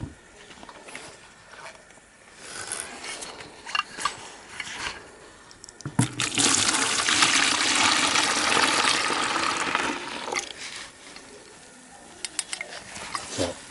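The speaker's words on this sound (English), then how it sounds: "I'm going to pour it off into the bucket first" Gold recovery solution is poured from a large jar into a bucket, a steady splashing pour lasting about four seconds after quieter handling noises, with light knocks near the end.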